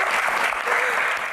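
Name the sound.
applause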